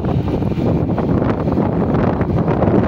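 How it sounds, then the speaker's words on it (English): Strong wind buffeting the microphone at an outdoor welding worksite, a continuous low roaring rumble with gusty surges throughout, loud and close, with no talking. "the weather is now here is too much windy. Wind speed is high."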